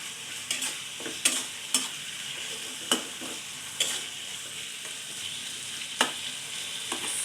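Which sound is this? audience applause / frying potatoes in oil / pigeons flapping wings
frying potatoes in oil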